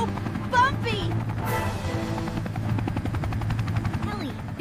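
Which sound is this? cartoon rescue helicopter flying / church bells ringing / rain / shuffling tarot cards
cartoon rescue helicopter flying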